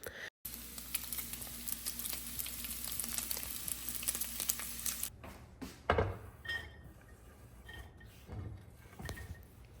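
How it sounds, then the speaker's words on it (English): Bacon crisping in a cast iron skillet: a steady close frying crackle for several seconds, then quieter spitting and scattered kitchen clatter. "we're going to crisp our bacon up in a cast iron skillet"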